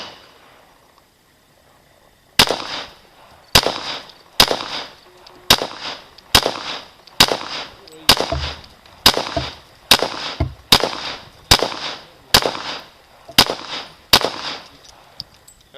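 Glock pistol firing hard cast lead bullets: a steady run of about a dozen sharp, loud shots spaced roughly a second apart, each with a short ringing decay, after a brief quiet start.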